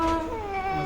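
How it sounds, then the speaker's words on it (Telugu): A cat gives one drawn-out, wavering meow close by, lasting under a second, with a faint rumble of room noise underneath. "క్యాట్ వచ్చింది."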